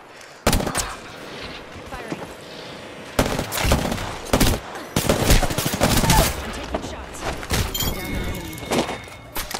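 Apex Legends gunfire crackles in bursts of rapid shots and heavy single blasts, loud and close, with sustained fire in the middle and later stretch over background game ambience.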